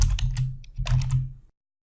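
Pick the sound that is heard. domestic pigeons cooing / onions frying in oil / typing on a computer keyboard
typing on a computer keyboard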